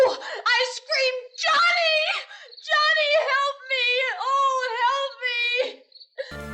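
A woman's high, wavering screams and wails, as in a classic zombie horror film, come in several long cries close up, with short gaps between them and no other sound under them.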